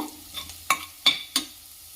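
Chopped vegetables and onion go into a frying pan and are stirred, giving three or four sharp spatula knocks and scrapes against the pan over a faint background sizzle, with no talking.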